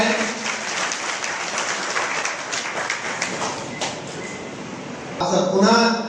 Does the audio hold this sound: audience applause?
yes